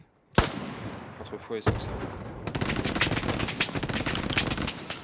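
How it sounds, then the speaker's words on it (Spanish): Machine-gun fire in a snowy multiplayer shooter game: a sharp single shot, then a second, then sustained rapid automatic bursts rattling on, with a player speaking briefly over the gunfire. "Nos tienen ahí una ametralladora, nosotros no tenemos ametralladora."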